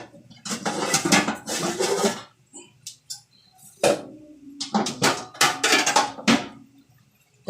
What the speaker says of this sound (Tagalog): tatakpan na po muna natin yung ating niluluto para maluto siya